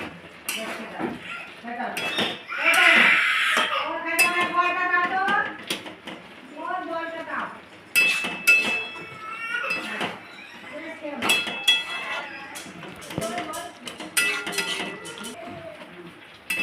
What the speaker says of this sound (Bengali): ঢাকা খুলে একবার মশলাটা সবজিটা একবার নেড়ে নিচ্ছি